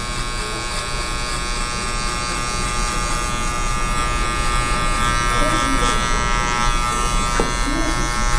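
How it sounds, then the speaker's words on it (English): Electric hair clippers buzz steadily through a fade haircut, a continuous close hum of cutting with speech over the top. "you'll hear the clipper doing the work and cutting the hair"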